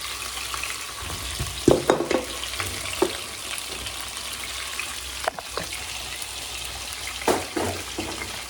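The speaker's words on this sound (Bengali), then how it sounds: "আর এদিকে মাছ ভাজাটা বসিয়েছি, একটা সাইড সুন্দর ভাজা হয়ে গেছে" Fish fries in a pan on a stove with a steady close sizzle, and a few louder scrapes and clinks from turning it break through the hiss now and then. No one speaks.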